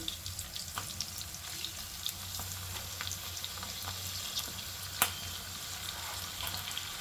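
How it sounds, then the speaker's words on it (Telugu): Onion and tomato sizzle softly in hot oil with a steady crackling hiss and a few small pops and clicks, quiet and close. "సో ఆనియన్ టమాటో అయితే ఆయిల్లో వేసుకోవాలండి"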